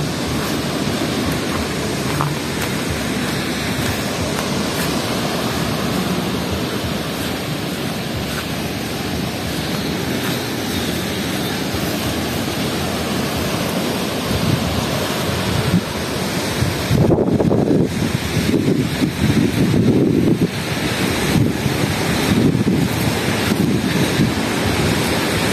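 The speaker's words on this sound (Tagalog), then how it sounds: "maganda naman ang dagat dito" Sea surf at a private beach resort in Sablayan, a continuous loud roar of breaking waves heavily mixed with wind buffeting on the microphone, with no talking.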